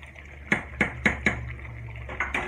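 Chicken white qorma stirred and roasted in a pot, a spoon clanking sharply against the metal about six times in an uneven rhythm over a low simmering hum, close by, with no talking.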